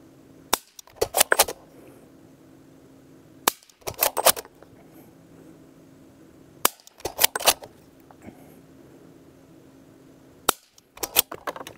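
Suppressed rifle shots with subsonic ammunition fired at a target about 50 yards out, three or four sharp reports spaced a few seconds apart, each followed by a short rattle of clicks and echoes, no talking.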